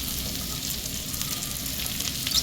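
Onions sautéing over a medium flame in a pan for chicken lo mein give a steady, close, dense sizzle and crackle that holds without a break.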